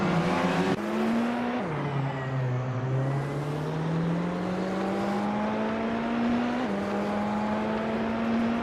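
A 2019 BMW M8 GTE race car engine in a racing video game revs hard and loud, pitch climbing through gears with sharp drops at each shift, tires squealing faintly beneath, no voices.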